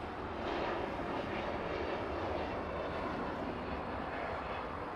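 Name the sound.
Air Premia Boeing 787 Dreamliner landing, arriving from Seoul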